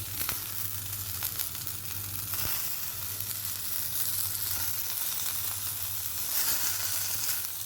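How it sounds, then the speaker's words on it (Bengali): Fish fry in a pan with a steady, hissing sizzle that fills the whole stretch, close and even, with a low hum underneath and no talking. "মাছটা প্রায় ভাজা হয়ে গেছে"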